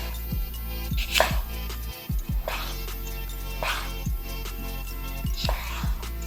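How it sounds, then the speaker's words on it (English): A knife slices an ingredient into thin slices on a cutting board in a home kitchen, with steady close knocks repeating about once a second, each chop a short thud with a brief scraping hiss. "So you're just going to cut them into thin slices like this."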